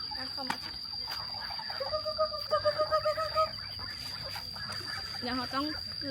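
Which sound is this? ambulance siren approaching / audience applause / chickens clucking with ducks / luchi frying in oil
chickens clucking with ducks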